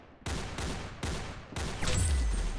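Gunfire in the Roblox game Arsenal: four sharp shots or short bursts about half a second apart, loud and close, the last followed by a low boom, with no talk.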